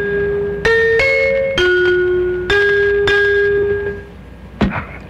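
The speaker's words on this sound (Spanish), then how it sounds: "Las campanas tubulares" Tubular bells ring out a slow descending-and-rising sequence of about six clear, sustained metallic strikes, loud and close, their tones overlapping as each decays.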